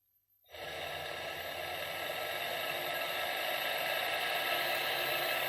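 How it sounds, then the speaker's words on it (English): The electric motor of a refurbished fire engine bell starts up in a repair workshop with a brief rise, then settles into a steady, even whir and hum that keeps running close by. "I'm now going to turn this control up and we'll watch this motor."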